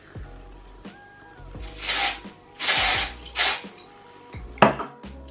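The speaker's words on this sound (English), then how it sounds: "I will go ahead and spray some dry shampoo in the roots" A few brief dry shampoo aerosol spray bursts hiss close by, mixed with clunks, taps and handling noises between them.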